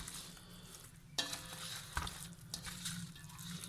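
Fried fish and its added ingredients being mixed in a pan, with scraping stirs, a few sharp clinks and a soft sizzle running steadily underneath; no one speaks.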